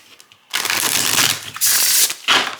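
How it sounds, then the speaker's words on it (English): Riffle shuffling of a tarot deck printed on Llewellyn cardstock: close, crisp bursts of fluttering cards, one long riffle followed by two shorter ones, with no talking. "because it riffle shuffles absolutely beautifully"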